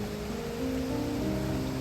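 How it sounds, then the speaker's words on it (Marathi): Heavy rainfall in the Konkan region, a continuous dense hiss of rain pouring steadily at close range with a low rumble under it, no voices. "एवढा जोराचा पाऊस पडतोय"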